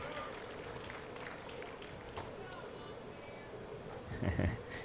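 A crowd at a pickleball championship match gives a steady wash of applause and cheering. The applause swells briefly near the end.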